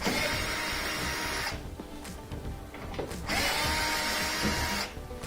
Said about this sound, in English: Take off the top, we just got to pull these 3/4 inch screws.